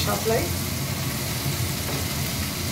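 Tomatoes for a Bengali fish curry (macher jhol) sizzle in a hot pan, a steady close frying hiss that runs under a voice speaking.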